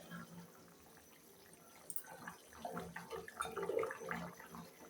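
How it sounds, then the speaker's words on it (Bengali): Water-based curry with drumsticks and fish bubbling in a pot, a soft continuous simmer that grows louder and busier toward the end, with no talk over it. "দেখেন টকবক করে ফুটতেছে।"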